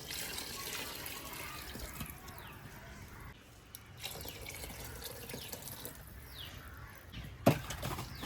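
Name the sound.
water being poured into biryani pot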